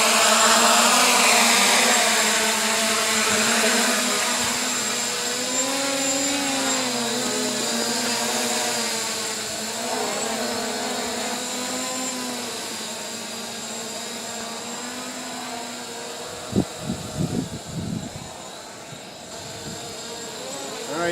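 A small drone hovers and flies with a steady high whine whose pitch rises and falls as it maneuvers, fairly close and continuous, with a few knocks near the end.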